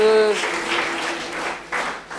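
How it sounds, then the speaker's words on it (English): Church congregation clapping hands in praise, a burst of applause after a sustained held tone at the start, with some voices mixed in, moderately loud and fading slightly. "Let's give a hand clap to"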